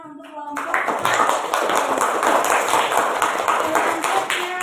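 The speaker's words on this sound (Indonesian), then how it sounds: "Tepuk tangan untuk kelompok" A classroom of students applauds a group of classmates. A teacher's voice briefly ends, then brisk, crowded clapping bursts in and carries on loud and even to the end.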